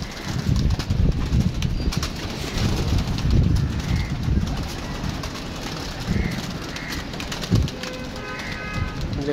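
Pigeons in a netted enclosure coo repeatedly in soft, low burbles while wings flap in rough bursts, close by and continuous, with no talk.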